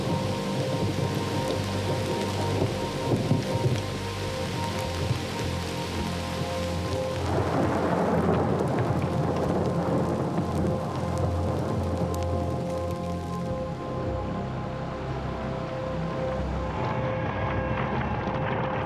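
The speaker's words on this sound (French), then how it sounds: "Ici, les orages sont rares, mais peuvent être particulièrement violents." Heavy rain pours steadily throughout a desert thunderstorm, with low thunder rumbling beneath it and a louder surge of rain midway; no voices.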